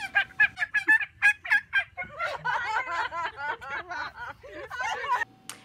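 A group of women imitate wild turkey calls with their voices, a rapid run of sharp yelps and warbling gobbles close up, trailing into chuckles and laughter.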